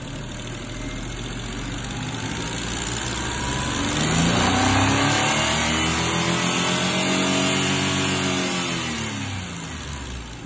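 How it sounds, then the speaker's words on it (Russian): A Daewoo Matiz 0.8 L F8CV engine revved to 5000 rpm. The loud, close drone climbs in pitch, holds, then eases back down over about ten seconds. "Работа двигателя 5000 оборотов."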